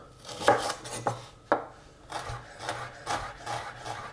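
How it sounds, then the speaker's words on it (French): Shallots sliced with a knife on a wooden board while preparing stuffed bread with Gouda, giving a string of close, crisp chopping taps and scraping rubs at an uneven rhythm, with no talking. "On va couper les échalotes."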